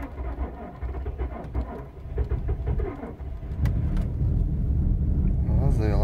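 A car engine cold-starting at minus 36 degrees in Siberia catches and settles into a loud, steady low rumble that builds toward the end, with a voice talking over it.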